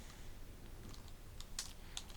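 Quiet typing on a computer keyboard in a dim room, a few soft key clicks with a couple of sharper taps near the end over a low background hum.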